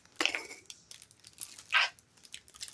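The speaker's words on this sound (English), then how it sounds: "I need a big plastic bag now for all of these." A big plastic bag is handled close up, giving two loud crinkling, rustling bursts and lighter crackles between them, with no talking.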